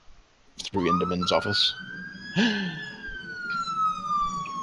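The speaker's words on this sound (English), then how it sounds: "oh, that's the fire engine" Fire engine siren in a video game rising and holding a long steady wail that slowly falls away, loud and continuous, with other game sounds and people talking over it.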